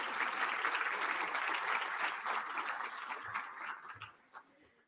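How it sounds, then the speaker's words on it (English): Audience applause at a State of the City address hosted by a chamber of commerce in Brownsville, Texas: dense, steady clapping from a crowd that tapers off over the last second into a few scattered claps. "Yes, that deserves a round of applause."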